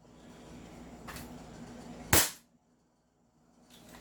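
A two-tone M4A1 airsoft rifle fires one sharp, snappy shot close by, after a fainter earlier pop, over a low background hum with no speech.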